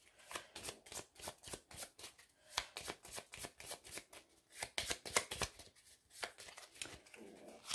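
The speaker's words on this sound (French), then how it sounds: "on mélange son tas de cartes" Deck of cards shuffled during a solo game of World Wonders, rapid riffling bursts repeated in a steady close rhythm, fairly quiet with no talk.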